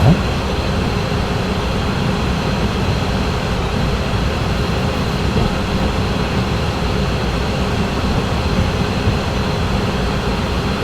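A BR642 diesel railcar runs on the Groß-Umstadt to Frankfurt (Main) Hbf line in the Train Sim World 5 game, its engine and wheels droning in a steady, loud, unbroken rumble with no voices.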